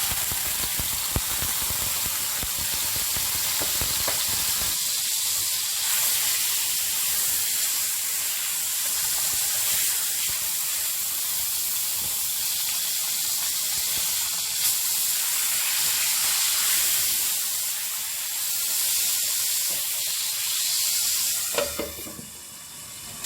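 Chicken breast pieces sizzle steadily in a tablespoon of hot oil in a pan, a loud continuous frying hiss with occasional stirring scrapes and no talk.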